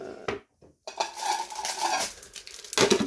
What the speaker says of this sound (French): pourquoi la casserole, elle m'a fait tout basculer sur le tabouret?